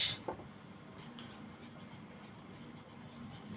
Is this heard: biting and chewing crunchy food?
no